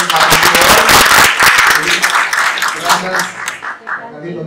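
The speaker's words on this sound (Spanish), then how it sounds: "Un fuerte aplauso para Carlitos" Loud, dense applause from a crowd, clapping hard at first and then gradually thinning and fading out.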